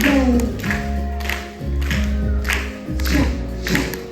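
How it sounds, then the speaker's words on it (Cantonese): A group claps along to a children's song at a New Year's Eve storytelling show. Rhythmic, evenly spaced claps come over the melody of the music. "可以一齊拍手先。"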